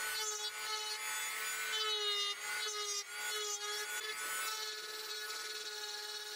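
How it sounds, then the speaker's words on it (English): A rotary tool grinds away walnut wood for a wall light build, a continuous high whine with a steady tone, broken by short dips in pitch and loudness as it bites into the material. "I used my rotary tool to remove the bulk of the material."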